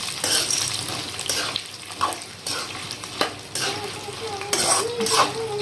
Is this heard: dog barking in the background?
no